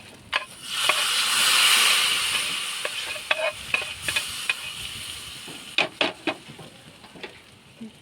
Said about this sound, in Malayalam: കറിവേപ്പില എൻ്റെ എരിശ്ശേരിക്കകത്തോട് ചേർക്കുകയാണ്